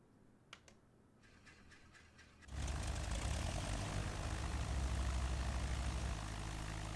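A Model 61 Long-EZ aircraft engine starts in Microsoft Flight Simulator: after a few faint clicks, it catches with a sudden loud roar at about two and a half seconds and then settles into a steady, heavy drone.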